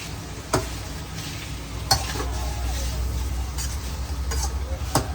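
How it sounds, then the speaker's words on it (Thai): Ingredients are stir-fried together in a pan, a steady close sizzle with occasional sharp clinks and scrapes of a utensil against the metal, while speech is faintly present underneath. "ใส่ลงไปต่อเราจะผัดทุกอย่างก่อนให้เข้ากัน"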